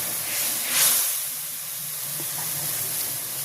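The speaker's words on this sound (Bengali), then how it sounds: "আমি এখন এর ভিতরে মশলাটা কষাই নেব এখানে চাদা আর জিরা ধনিয়া" Whole spices, including cumin and coriander, sizzle in a hot pan with a steady, close hiss. The sound swells briefly early on, then settles to an even fizz with no talking.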